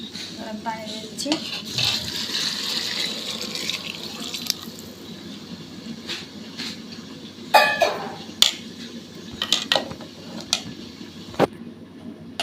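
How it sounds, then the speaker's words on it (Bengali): Water is poured from a mug into a cooking pot for pulao rice, about a kilogram of rice on the stove, a steady splashing stream with clinks of metal and brief knocks, close by and fairly loud. "এখন আমি এর ভিতরে পানি দিয়ে দিই।"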